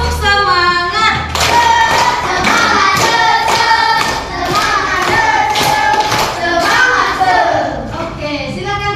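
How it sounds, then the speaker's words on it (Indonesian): Indonesian primary class doing a rhythmic spirit clap after a food-chain lesson: patterned hand claps and thumps from many children in unison, loud and close, with voices mixed in throughout. "Ya, tepuk semangat."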